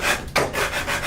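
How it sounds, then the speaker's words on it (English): Wood for a patriotic flag hanger is sanded by hand in steady back-and-forth rubbing strokes, close and continuous with no talking. "Lots of sanding."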